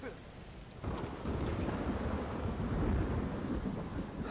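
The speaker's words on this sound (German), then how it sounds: "Das ist auch gar nicht so einfach, bei diesem Unwetter hier den richtigen Weg zu finden." Stormy weather in the video game Uncharted 4: steady heavy rain swells after a quiet start, with a deep rolling thunder rumble beneath it, and no speech.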